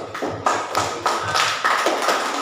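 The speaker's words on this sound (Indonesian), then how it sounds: "Tepuk tangan dulu untuk." A classroom of students claps together in a short burst of rhythmic, fairly loud applause, close by with no talk over it.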